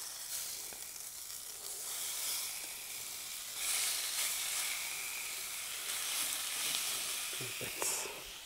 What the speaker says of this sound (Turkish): Ben harmanladığım etimizi direkt kızgın tavamıza atıyorum.